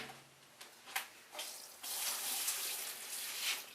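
Old fuel pours from a restored gas tank into an old square bucket, a soft trickle that swells into a steady, fairly quiet splashing stream.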